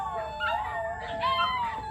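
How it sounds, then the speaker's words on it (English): Dogs howl and whimper together in a drawn-out, wavering chorus at moderate distance, with a faint yip or two and no clear barking. "Dogs are gonna start barking."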